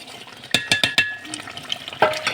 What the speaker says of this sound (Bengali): এই যে বন্ধুরা দেখতেছেন মশলাটা কষানো হয়ে যাচ্ছে একটু লাড়াচাড়া করে দিচ্ছি